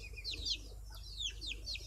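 Young chicks peeping and clucking nearby, a quick run of high chirps coming in short bursts over about two seconds, quiet and alone with no talking.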